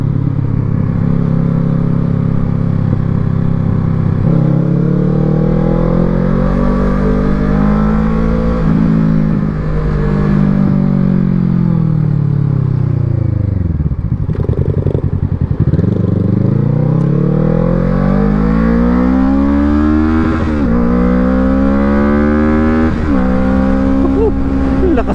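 A Kawasaki Z650 motorcycle engine on a test ride, revving loud and close with rising and falling pitch sweeps as it accelerates and engine-brakes, a steady throaty drone throughout with faint talk mixed in.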